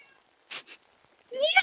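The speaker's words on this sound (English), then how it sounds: "Little meow." A cat gives two short meows, then a longer, rising meow near the end, heard close in a quiet room.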